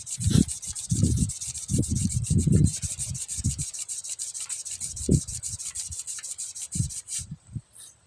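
Hand polishing the crankshaft of a China Changgong engine produces repeated rhythmic rubbing and scraping strokes. They are close and moderately loud, grow sparser toward the end, and a steady high hiss runs behind them.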